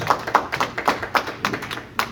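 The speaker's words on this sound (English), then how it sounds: "Round of applause for these guys right here" Audience applause for panelists at an indie comic convention, a small group clapping in an uneven patter of distinct hand claps, fairly close and steady.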